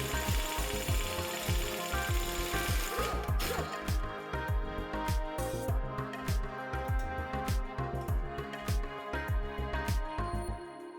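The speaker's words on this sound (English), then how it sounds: "Start by removing the axle nut." Impact or ratchet tool working loose the front axle nut on a 2006-2011 Honda CR-V, a loud close rapid hammering rattle pulsing steadily throughout.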